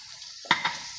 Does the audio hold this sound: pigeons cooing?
no